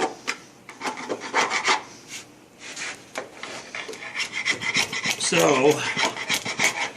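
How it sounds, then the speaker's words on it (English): Dried Gorilla Glue foam being scraped off an oak chair gives irregular rasping strokes, close and moderately loud, in short bursts with brief pauses, while someone says a word. "that's my first chore, scraping off the Gorilla Glue"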